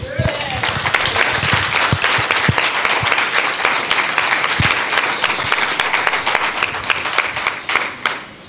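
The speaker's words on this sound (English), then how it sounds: "Can I get everyone to give them a clap?" Sustained, loud applause from a church congregation at a men's annual musical, dense clapping that fills the whole stretch with a few sharper individual claps and crowd murmur mixed in.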